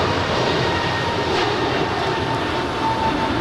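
A jet airliner taxiing on the ground at Los Angeles International Airport near the Tom Bradley terminal, a steady broadband engine roar with a faint whine, continuous and moderately distant, with no talking.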